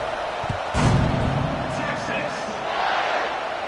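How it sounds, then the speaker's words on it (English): Football stadium crowd at a Michigan versus Texas game, buzzing loudly after a score, with a sharp burst of cheering near the start and a dense, steady roar throughout, plus faint voices mixed in. "this crowd is buzzing after that last score"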